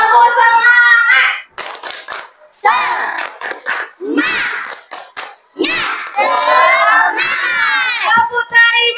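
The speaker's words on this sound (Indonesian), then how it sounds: "Tepuk tangan untuk kita semua. Oke, berdiri dulu anak ibu. Berdiri. Tepuk semangat." Schoolchildren in a classroom perform a rhythmic spirit clap, shouting a chant in unison between bursts of clapping, loud and close with short pauses.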